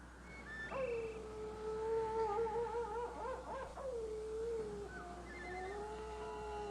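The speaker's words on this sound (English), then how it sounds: "A wolf is supposed to howl" A wolf lets out a long, wavering howl that rises and falls over several seconds, fairly clear against a quiet outdoor background with no talking.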